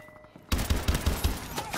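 Automatic gunfire from a shooting video game: after a quiet half second, a rapid string of about six loud, punchy shots rings out at a steady rhythm, close and dominant, with no talk over it.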